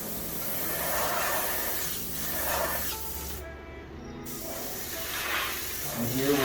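An airbrush sprays paint through a stencil to highlight orange flames, a steady close airy hiss that swells and eases with the strokes and cuts out briefly once.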